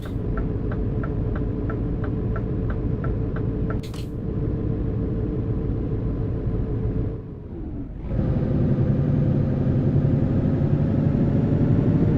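A truck engine in a truck driving video game rumbles steadily in Scandinavia, with a ticking pattern early on, a brief dip and pause, then a louder, fuller drone as it pulls away.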